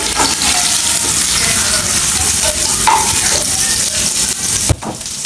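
Noodles cooking in a hot pan sizzle loudly and continuously close by, with stirring and scraping over the hiss and one sharp knock near the end.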